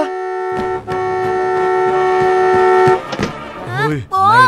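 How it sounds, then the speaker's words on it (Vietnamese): A car horn honks in a loud, sustained blast, sounded by a child inside the vehicle in a children's traffic-safety show, then cuts off as high excited voices start talking. "May là bố nghe thấy tiếng kèn xe inh ỏi và đến kịp lúc."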